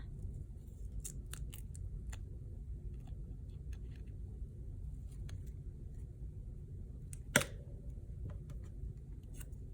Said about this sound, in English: I'm gonna just trim off a little bit off this side